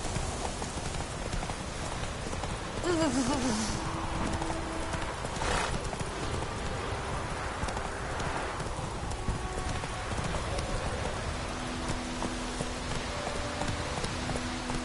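Hooves of Roach, the horse in The Witcher 3, galloping in a steady rapid clip-clop, close and continuous, with rain in the background and a brief whinny.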